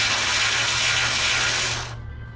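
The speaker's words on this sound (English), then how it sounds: "then use your ratchet, and as you're backing it out, you're putting pressure that way to pull the wrench or to pull the bolt out" A continuous high-pitched power-tool whir runs steadily while a bolt is backed out of a 1966 Ford F100 during a rebuild, then cuts off abruptly near the end, leaving a faint hum.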